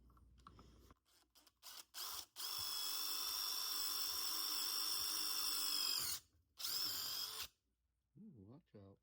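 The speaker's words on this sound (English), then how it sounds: "now let's take a drill it." A power drill bores into Superstrut metal channel for a DIY trailer spare tire mount, with a long steady whine interrupted by short stops and a second brief burst, close and loud, with some faint handling noises around it.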